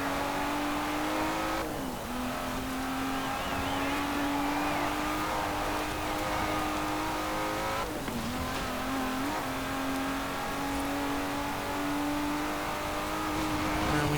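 An Aston Martin races in Forza Horizon 4, its engine holding a loud, steady drone throughout, with two brief dips where the pitch drops and climbs again as it shifts gears.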